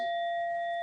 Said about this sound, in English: And I have this beautiful bell that my friend gave me.